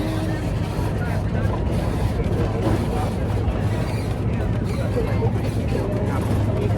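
Steady vehicle rumble from inside a truck carrying riders to a peach farm in Georgia, a continuous low drone with road noise and voices talking over it throughout.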